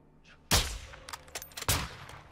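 Sniper rifle gunfire in the Call of Duty MW2 campaign mission Recon By Fire, two sharp loud shots about a second apart with crackling echoes between, no talk.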